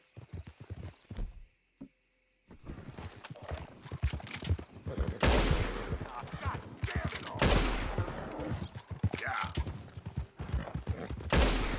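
Horse hooves clip-clop in a quick, uneven rhythm in Red Dead Redemption 2 gameplay, with sharp cracks like gunfire mixed in, fairly close and busy.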